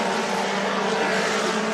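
Mini stock race cars roar around Tri-City Raceway during the Fall Classic. A loud, steady engine drone fills the whole moment with no pauses and no voices.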